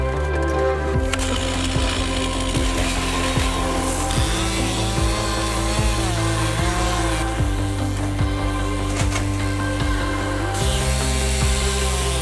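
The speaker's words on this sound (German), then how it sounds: "Mit der Kettensäge werden einzelne Blöcke aus dem Eis gesägt" A chainsaw cutting blocks from metre-thick ice on Lake Baikal, its engine droning loudly and continuously with shifting pitch as the blade bites, heard under background music.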